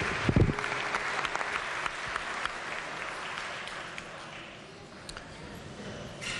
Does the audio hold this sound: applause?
yes